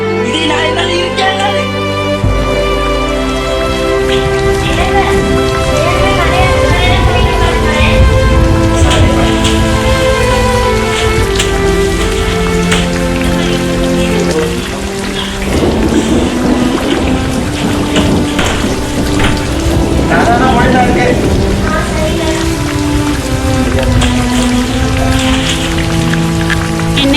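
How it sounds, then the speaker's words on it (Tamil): Heavy rain pours down steadily for the whole stretch, a dense unbroken wash of drops mixed with a sustained tonal background and no talk. "என்னங்க இப்படி மழை பெய்யுது?"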